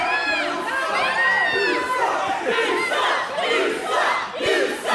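Wrestling crowd in an arena at a Riot City Rules match shouting and jeering at a returning wrestler, a loud continuous wall of massed voices with rising whistles and yells, a commentator speaking over it.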